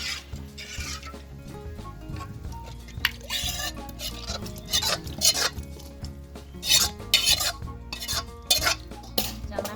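Cooked sticky rice being stirred into hot coconut milk, giving repeated wet, sticky scrapes and clatters of a spoon against a pot in an irregular rhythm, close and fairly loud with no talk.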